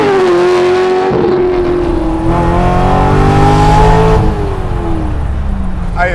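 A widebody C3 Corvette's LS6 V8 engine revs and pulls away loudly, its pitch climbing through gear changes, close and continuous throughout.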